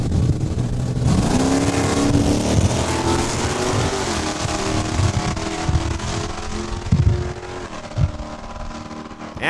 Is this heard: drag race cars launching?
yes